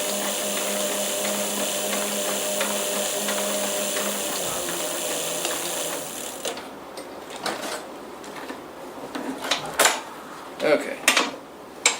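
A sewing machine stitches a seam on a leather jacket, its steady mechanical whir running continuously for about six seconds before stopping, followed by scattered handling clicks and taps.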